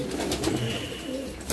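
White Gaditano pigeons in a loft coo steadily, a low, soft, continuous murmur of several birds close by with no talking.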